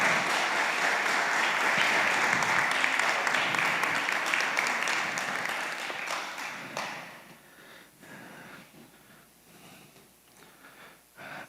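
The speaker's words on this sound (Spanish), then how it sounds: "Denle un aplauso al Señor." Congregation applause at a Spanish-language church service, loud sustained clapping for about seven seconds that fades out abruptly, leaving quiet room noise with a few scattered taps and sniffs.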